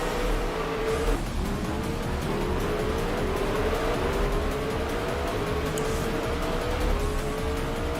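Race cars from the sim racing game rFactor roar steadily through a turn, engine tones rising and falling as several cars pass, with a faint tire squeal, loud and continuous throughout.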